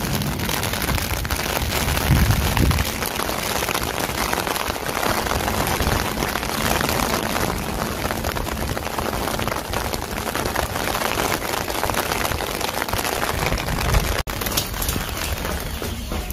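Rain falls steadily on an open rooftop under heavy clouds, a dense continuous hiss of drops with scattered louder patters throughout.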